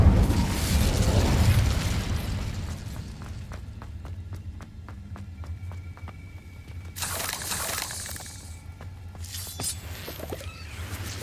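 A fiery spell cast in Hogwarts Legacy, a loud low burst and rumbling roar at the start, followed by a crackling rumble, ticking clicks and a second bright flare partway through.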